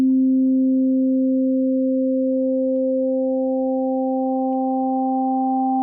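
Sustained synth pad from the Waldorf Nave iPad synthesizer with a looping wavetable, holding a steady tone as a higher partial slowly rises and joins near the end, smooth and unbroken with no talking.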